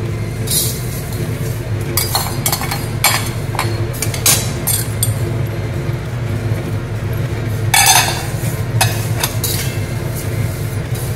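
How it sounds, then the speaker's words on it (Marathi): Moong dal dry-roasting in a pan on medium heat for Maharashtrian chakli bhajani, with repeated clinks and scrapes of a spoon stirring the lentils against the metal over a steady low hum. "आता मुगाची डाळ घालते भाजायला।"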